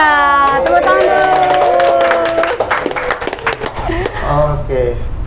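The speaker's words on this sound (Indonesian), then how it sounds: "Tepuk tangan dulu." A studio audience at an Indonesian podcast show claps in a burst over a backing jingle with musical tones, the applause partly masked by the music and a host's voice.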